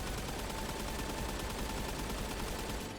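Light machine gun fitted with a loudener attachment fires nonstop in the Phantom Forces shooter game, a dense, loud unbroken burst of rapid shots filling all three seconds with no talking.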